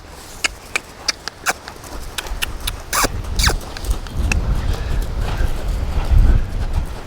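A young saddled horse moving off, with a few crisp separate hoof clops early on, then softer, muffled footfalls and shuffling on the ground as the pace continues, close by with low background noise.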